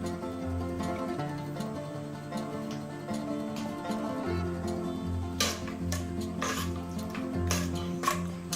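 A spoon stirs pudina pulao in a pot in a home kitchen, giving soft scraping sounds and a run of sharper clinks against the metal near the end, over a steady low hum.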